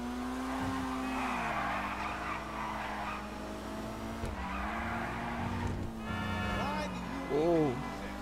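A car drifts in GTA, its engine droning steadily while tires squeal and skid through sustained slides. A voice talks over it now and then.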